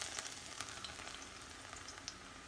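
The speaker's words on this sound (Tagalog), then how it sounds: "lagay na natin ang bawang" Garlic fries in hot oil with a constant close hiss and small crackling spits, fairly quiet and even across the short stretch, no talking.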